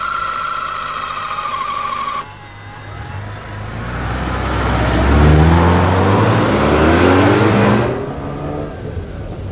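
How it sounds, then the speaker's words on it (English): A 1986 Mazda RX-7 rotary engine climbing through the revs with a sporty exhaust note, loud and close, with a sustained whine, then a rising surge that builds to a peak before easing off. "The rotary engine revs extremely freely and has quite a nice sport and exhaust note."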